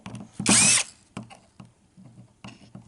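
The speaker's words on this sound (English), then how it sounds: "one drill bit first, and then we'll switch over to another drill bit to do the smaller sizes and so on" Power drill unscrewing small screws from hard drive circuit boards: a loud, high whirring burst of about half a second, followed by faint clicks and rattles of parts being handled.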